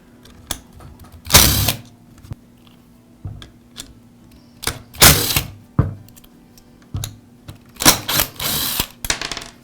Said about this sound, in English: I'll remove the two screws that secure the switch, as well as the screw that secures the ground wire